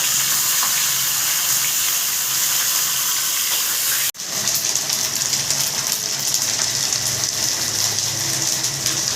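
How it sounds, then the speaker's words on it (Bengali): A fish head sizzles and spits as it fries in a pan for dal-based murighonto, a steady broadband hiss that briefly cuts out at about four seconds, then resumes even louder, close and without talk. "এই যে মাথা ভাজা হচ্ছে মুড়িঘণ্ট ডালে"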